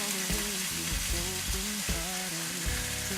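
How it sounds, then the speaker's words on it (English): Smoky thick-cut bacon browns in a pan for stir-fried collard greens, a steady close crackling sizzle with light pops and occasional stirring scrapes. "we're going to begin by browning a smoky, thick cut bacon"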